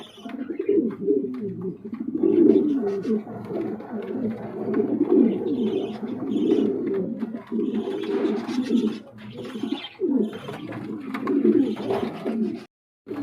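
A large yellow King running pair of pigeons cooing, with repeated throaty, rolling coos in close succession that stay near and fairly loud, broken by brief pauses.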